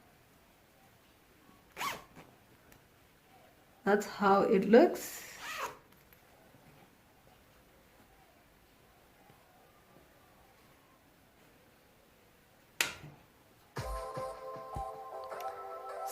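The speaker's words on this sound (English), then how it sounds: "There is our invisible zip over here, and then our skirt zipper over here." A skirt zipper on fabric is pulled open and closed in a few short separate rasps, close and fairly quiet, with a quiet voice speaking briefly between them.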